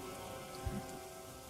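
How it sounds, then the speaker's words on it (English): A steady, faint patter of rain falls all around, soft and continuous, with a dull low thump partway through. "the trickle of rain around us, filling in my ears,"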